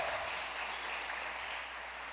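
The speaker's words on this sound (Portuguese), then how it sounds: "Uma salva de palmas para Jesus" A church congregation applauds, a faint, distant wash of steady hand clapping that holds evenly for a couple of seconds with no voices over it.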